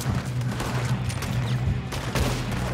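Heavy, continuous gunfire fills a firefight in Red Dead Redemption 2, loud overlapping rifle and pistol shots cracking in rapid succession with booming reports, no voices over it.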